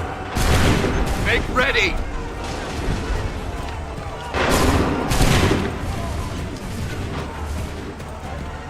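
Musket volley fire in Assassin's Creed III, with bursts of loud massed gunshots crackling in waves amid battlefield noise. Shouted commands are heard between the volleys.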